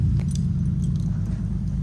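Keys jangle in short bright bursts over the steady low rumble of an idling car engine nearby.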